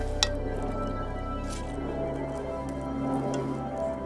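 A basic spatula smooths and levels a thick mixture, giving soft, wet squishing strokes close by, with a few light taps over a steady low background hum and no talking.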